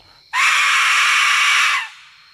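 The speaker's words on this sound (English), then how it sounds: "when you blow this whistle somewhere, especially if it's somewhere haunted, it wakes up spirits" A single loud, shrill whistle blast that sounds like a human scream, held for about a second and a half before cutting off.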